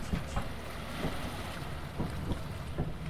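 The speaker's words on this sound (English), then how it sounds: "do you hear? I, I think that's just. I think that's just the water" Ambient water sloshing and lapping in the co-op horror video game Lethal Company, a steady wet wash with soft recurring surges, fairly quiet and continuous with no talk.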